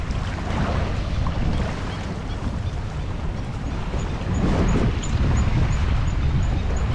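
Strong wind roars over choppy waves at sea, a loud continuous rush buffeting the microphone without letting up.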